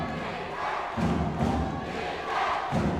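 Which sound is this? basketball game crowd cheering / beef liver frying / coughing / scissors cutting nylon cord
basketball game crowd cheering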